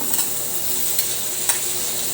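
Liver and gizzard sauté in a hot pan with a steady, close sizzle, broken by a couple of soft stirring clicks; no talking.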